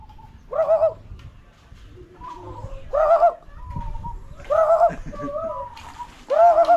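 Bird calls sound in short repeated bursts, four of them spaced a couple of seconds apart, with faint background noise and brief chirps between.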